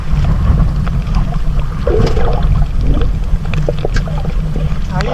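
People climb aboard a small fishing boat on choppy water during night spearfishing in the Philippines, with sloshing water, hull knocks and strong monsoon wind making a loud, continuous rumble.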